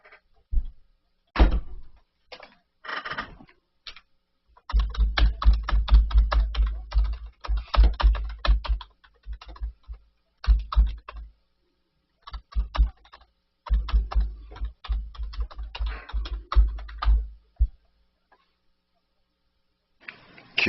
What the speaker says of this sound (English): Kill the keyboard, Mark.